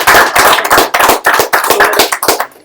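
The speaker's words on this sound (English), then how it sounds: "give a round of applause" A handful of people clap in quick, uneven bursts to welcome a new team member at a business event, the claps close and crisp, tapering off near the end.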